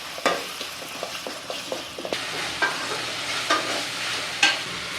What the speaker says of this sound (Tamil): இஞ்சி பூண்டு வந்துட்டு பச்சை ஸ்மெல் போகிற வரைக்கும் நல்லா வதக்கிக்கலாம்